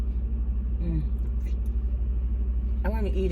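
A steady low engine rumble fills a moving car's cabin, with brief faint voice sounds over the drone.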